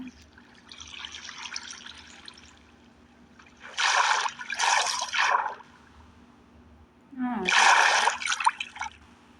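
Water poured and splashing in three separate bursts, with quiet pauses between them, fairly close.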